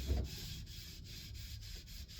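Steady rhythmic rubbing of sandpaper on a wooden axe handle, a soft continuous scratch with regular back-and-forth strokes, close and fairly quiet.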